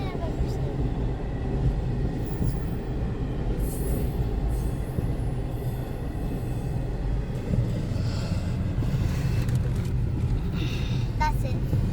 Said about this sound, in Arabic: It's like the longest train I've ever seen.